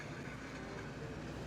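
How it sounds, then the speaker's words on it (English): Loose parts and debris from a race truck with its right front tire gone scrape and drag along the asphalt of a racetrack, making a steady, dense, close grinding roar throughout with no talk. "That sound you hear is parts and pieces dragging on the racetrack."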